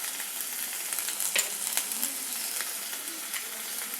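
Paneer being stirred with salt and chilli powder in a hot pan, giving a steady soft sizzle with a few light scraping clicks from the stirring, close and continuous, with no one talking.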